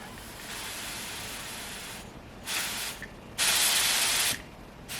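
Throttle brake cleaner sprays into the engine of a 2015 Toyota Prius C with a 1NZ engine, one long steady hiss followed by two shorter, louder spray bursts, heard close with no talking.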